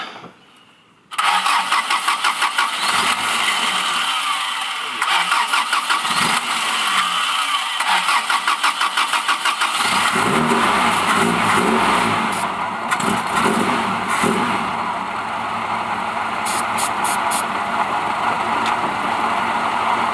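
A Corolla wagon engine cranks and catches with a loud start, then settles into a steady, close idle with repeated revs rising over it, running alone without talk.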